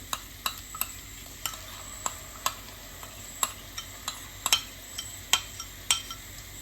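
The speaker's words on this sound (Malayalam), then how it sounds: "ഇനി ഇത് മൂക്കണ വരാൻ നന്നായിട്ട് ഇളക്കുക" Chana masala is stirred in a pan with a spoon, which strikes the metal in a regular rhythm of about two or three sharp clicks a second over a faint background sizzle, close and fairly quiet.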